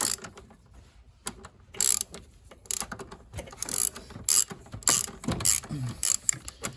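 A ratchet wrench loosens the oil filter housing nut on a Toyota RAV4, giving close, bursty runs of rapid mechanical clicking separated by short pauses.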